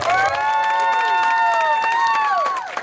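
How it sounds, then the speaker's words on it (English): Wedding reception guests applaud and cheer for Brian and Ruben Fox, steady clapping under music, with a sustained melodic tone running throughout. "let's have a round of applause for Brian and Ruben Fox"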